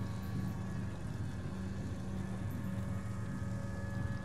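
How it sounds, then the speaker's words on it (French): A steady, droning boat engine hum in the video game Little Nightmares runs unbroken throughout, low and constant like an idling engine, with no voices. "Surtout ce bruit de moteur quasiment constamment présent"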